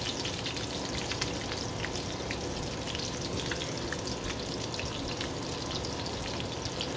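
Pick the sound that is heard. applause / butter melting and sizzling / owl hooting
butter melting and sizzling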